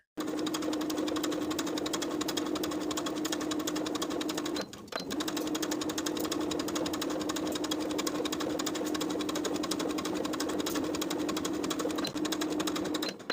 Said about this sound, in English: you can stitch in the ditch of that bias tape or stitch right above the seam line, edge stitching very close to the edge of the bias tape.